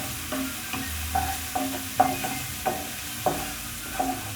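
Onions sautéing in a pan for vegetable spring rolls, a soft steady sizzle broken by about eight distinct scraping stirs spaced roughly half a second apart, close and moderately loud with no talking.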